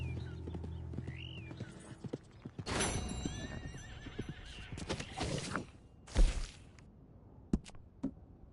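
A horse in the video game Red Dead Redemption neighs loudly, then hooves clip-clop and thud in uneven bursts with sharp knocks, fairly close and without talk.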